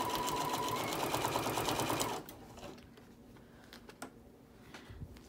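Sewing machine stitching fabric kitchen hot pads, a steady fast mechanical whirring run for about two seconds that then stops, leaving quiet handling noises and faint taps.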